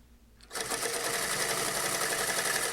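Sewing machine hemming a pair of jeans at about eight stitches per inch, starting up after a quiet moment and then running in one steady, close, whirring burst.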